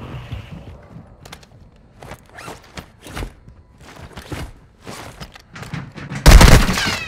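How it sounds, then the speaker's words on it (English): Gunfire in Call of Duty: Modern Warfare II: scattered single shots and short bursts crack out over a quiet background, some near and some farther off, ending in a sudden loud, heavy volley. "Taking effective fire."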